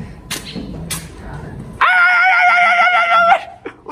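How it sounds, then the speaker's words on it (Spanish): A dog gives a couple of sharp barks nearby, then lets out a long, high, strained yelping howl before a final short yap. "nos acabamos de encontrar un perro bravo"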